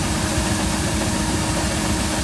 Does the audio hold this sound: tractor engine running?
yes